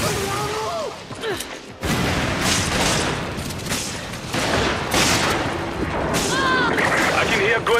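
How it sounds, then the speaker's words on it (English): Gunfire from the video game Resident Evil 5 in a team survivors match: dense, continuous bursts of shots and booms fill the scene throughout, with a short lull near the two-second mark, and game voices speak over it. "I can hear gunfire."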